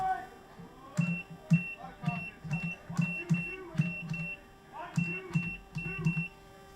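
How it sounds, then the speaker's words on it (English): A short electronic alarm beeps repeatedly at a steady rhythm during a college baseball game broadcast, each tone clear and recurring over a muffled announcer's voice and background noise. "apologies for all the beeping you guys hear"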